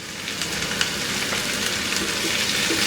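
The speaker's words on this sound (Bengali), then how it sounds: "তিন চার মিনিট ভেজে এই কাঁকড়গুলোর রঙটা একটু বদলাই গেলে" Kakrol, spiny gourd, sizzling steadily in hot oil in a pan, a dense even crackle that holds for a few seconds with no voices.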